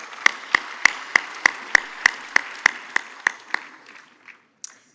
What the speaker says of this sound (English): Another round of applause to the speakers.